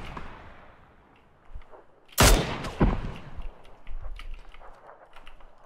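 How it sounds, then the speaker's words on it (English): Gunfire in the battle royale video game PUBG: a loud, sharp burst of shots around the midpoint, followed by scattered fainter shots and game ambience. "Someone's shooting from the right too."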